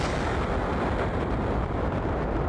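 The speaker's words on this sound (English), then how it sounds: "So let's fire off with mostly the rockets" Rocket engines fire in Kerbal Space Program, a loud, steady, broadband roar with deep rumble that stays constant and continuous throughout.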